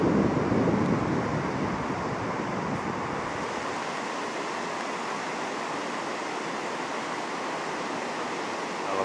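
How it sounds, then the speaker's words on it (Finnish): Lahnasen koski rapids on the Hiitolanjoki river, a steep drop with heavy white water, roaring in a steady, dense rush that stays loud and continuous throughout with no voices. "Siinä on aika iso puotos tässä koskessa."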